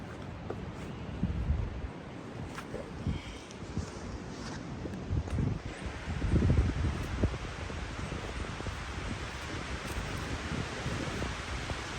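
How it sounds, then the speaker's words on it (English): Wind gusting across an outdoor disc golf course in Cornwall, a steady broad rush with stronger surges partway through and some buffeting on the microphone, with no one talking. "The wind is getting progressively crazier."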